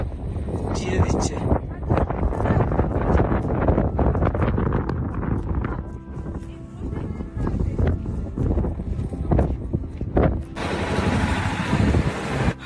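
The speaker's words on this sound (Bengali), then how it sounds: "ব্যাপক হাওয়া দিচ্ছে, চিরে দিচ্ছে।" Strong, gusting wind at high-altitude Gurudongmar Lake batters the microphone with loud, rumbling buffets and roars that continue throughout, with a voice heard intermittently beneath it.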